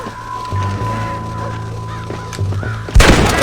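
A single loud, sharp gunshot in the Western video game Red Dead Redemption cracks out near the end, preceded by game ambience, a steady tone and a horn-like honking.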